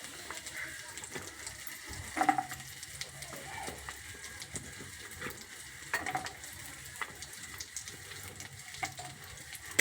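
Chopped garlic sautéing in melted butter in a pan, a steady bubbling sizzle and crackle with a few sharper pops and stirring scrapes, close up and without speech.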